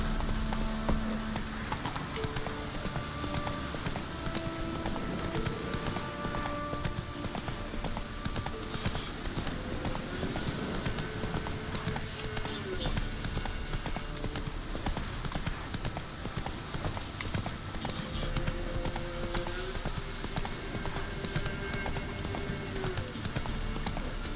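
Horse hooves clip-clop steadily as a horse is ridden in The Witcher 3 video game, a continuous rhythmic patter under game music and ambient sound.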